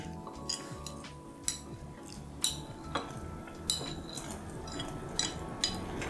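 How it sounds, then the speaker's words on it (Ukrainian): Tofu being added to boiling ramen in a pot, with sharp clinks and knocks of utensils against the pot recurring about once a second over a low bubbling simmer. "Коли ваш рамен кипіть, додаємо тофу."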